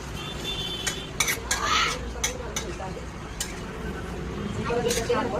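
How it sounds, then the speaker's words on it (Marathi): Chicken being stirred in masala in a pan, soft sizzling under scraping utensil strokes with a few sharp clinks against the metal, while a voice talks over it. "हे चिकन छान मसाल्यामध्ये परतवून घ्यायचं आहे."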